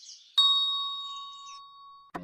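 A single bright two-tone ding of a doorbell rings out clearly and decays slowly for over a second before a brief thump at the end.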